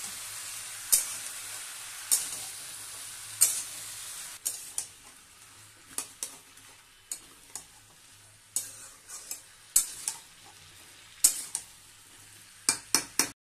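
Potatoes with turmeric are stirred and fried in a pan for Bengali ghugni, a quiet continuous sizzle punctuated by repeated sharp clacks of a spatula against the pan at an uneven, steady pace.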